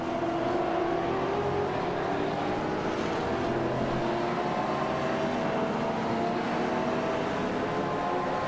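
Several V8 race cars in the iRacing sim at Daytona drone past in a pack, a steady engine roar with rising and falling pitches that holds for about eight seconds at moderate volume.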